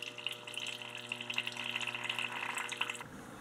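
Water dribbles weakly from a low-flow refrigerator water line fed by a self-piercing saddle valve, a steady close trickle with a faint hum beneath that runs for about three seconds and then cuts off.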